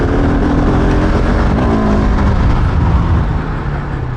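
A Husqvarna 701 Enduro motorcycle labours in first gear up a slippery, steep trail, its engine a loud, continuous, rough drone that rises and dips slightly, heavy with wind and ride noise.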